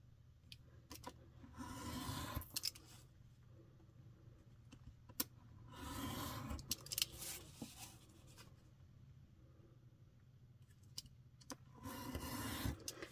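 Scissors cutting paper strips for paper weaving, trimming the white between strips: quiet, close snips and rustling paper in short irregular bursts with pauses, no talking.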